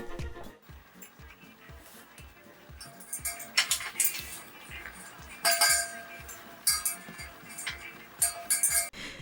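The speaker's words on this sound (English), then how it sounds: "all you hear is metal clinking" Repeated metallic clinks and taps from art-doll making tools, some sharp and bright, scattered irregularly over a steady low background, fairly close.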